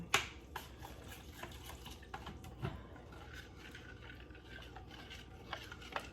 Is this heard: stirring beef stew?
yes